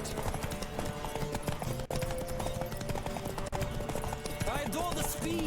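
Rapid rhythmic clip-clop of a horse galloping in The Witcher 3 video game, the steady hoofbeats carrying under game music and talking voices.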